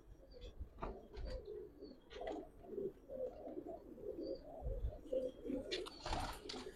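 Giribaz pigeons coo in a loft, soft repeated low coos overlapping with occasional chirps and rustles, fairly faint and close by without any talking.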